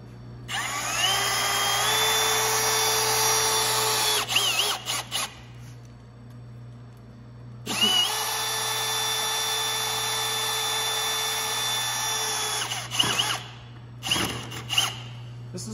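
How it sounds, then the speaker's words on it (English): A power drill drives screws into a wooden bench brace in two long, loud whining bursts that each end in ratcheting clicks, with a steady low hum underneath. "I can just run these screws in part of the way, and they're gonna show up in the right place on the other side"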